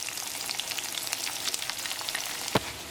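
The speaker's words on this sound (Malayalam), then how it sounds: "അപ്പോൾ ചുവന്നുള്ളി ഇതിനകത്ത് കിടന്നിട്ട് നന്നായിട്ട് മുരിഞ്ഞിട്ടുണ്ട്" Shallots fry in hot oil in a pan for bread upma, giving a steady, close crackling sizzle that fills the whole stretch, with one sharper clack near the end and no talking.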